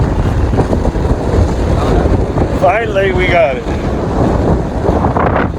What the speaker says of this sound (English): It's still windy, stormy weather.